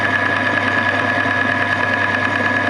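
Lathe chuck spinning on a single-phase electric motor, giving a steady, even mechanical hum with a constant whine, loud and close, running alone without talk.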